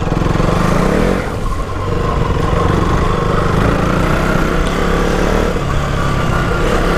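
A KTM motorcycle splashes through a small pond during monsoon off-roading near Jaipur, engine droning steadily with splashing water and a brief dip in the noise near the start.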